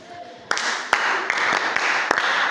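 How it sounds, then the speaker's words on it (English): Several sharp claps from a small group after a classroom lesson, a brief run of irregular slaps close up. "Clap for yourself."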